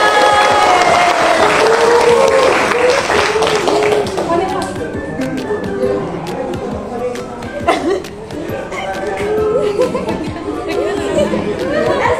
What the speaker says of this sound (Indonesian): Kita beri tepuk tangan untuk Vanessa.